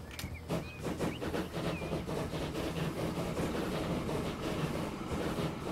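A train in the Transport Fever 2 game rolls along with steady clickety-clack rhythm and rumbling wheels, a few faint squeals over the top, moderate and continuous with no talk.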